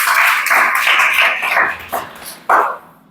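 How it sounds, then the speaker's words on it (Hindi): A classroom of students claps loudly and raggedly for a few seconds, a dense burst of hand claps that fades, then a sharp final flurry, with no voices over it. "चला जोरदार ताली बजाओ जी।"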